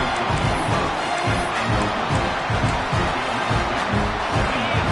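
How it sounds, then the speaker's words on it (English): A football stadium crowd roars in a constant wall of cheering and chanting, with rhythmic stomping or clapping pulses underneath, loud and enveloping. "this crowd is fired up. Listen to this noise here."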